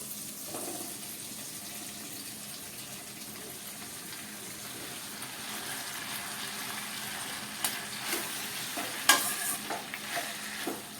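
Chopped tomatoes and green chillies frying and being stirred in a pan, a steady low sizzle under sparse spoon scrapes and clinks that grow busier toward the end.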